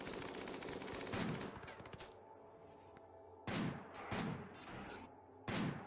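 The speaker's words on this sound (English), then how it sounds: "Looks like Crow took a minor shot there." Gunfire from a battle in the video game RimWorld, beginning as a dense rattling burst and then sounding as several separate sharp shots with decaying tails, fairly close and without talk.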